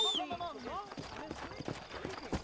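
Horse hooves clip-clopping in the Red Dead Redemption video game, a quick steady trot of soft knocks heard close, mixed with a voice at the start and faint background sounds.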